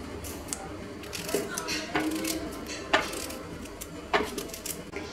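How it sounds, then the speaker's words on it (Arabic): A knife chopping a peach, skin on, into small pieces for a peach and yogurt juice, several sharp separate knocks on a board spaced about a second apart, fairly close, under a woman's speech. "غادي نقطع الشهديه طراف صغار بالقشره ديالها"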